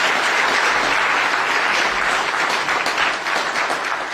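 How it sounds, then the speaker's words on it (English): Full, continuous applause fills a town hall meeting honoring a church and its pastor, loud and unbroken from start to finish. "Let's give this church and this pastor a round of applause."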